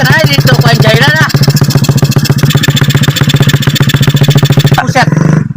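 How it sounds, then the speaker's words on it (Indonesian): A motorcycle engine idles nearby with a steady, rapid chugging pulse, loud and even throughout, briefly cutting out near the end. "Eta suara motor saya."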